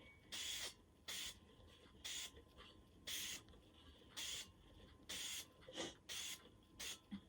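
Bursts of Citristrip paint stripper spraying onto cups, hissing in short repeated blasts, about ten of them at a steady rhythm, each lasting under a second, fairly close.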